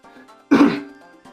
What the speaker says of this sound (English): Yeah, I just got a bit of a cough.